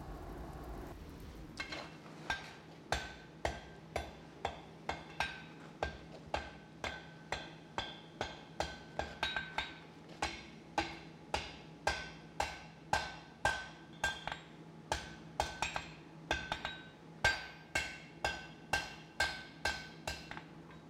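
A blacksmith hammering forge-welded wrought iron pieces for a field gate, with sharp ringing blows striking in a steady, even rhythm for about twenty seconds, loud and close, with no talk.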